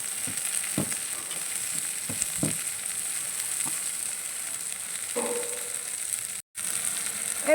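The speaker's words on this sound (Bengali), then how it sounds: "এবার এর মধ্যে টমেটো কুচিটা দিয়ে দেবো।" Chopped tomato going into a crab curry frying in a pan, giving a steady soft sizzle with occasional clicks and scrapes of stirring, and no voices.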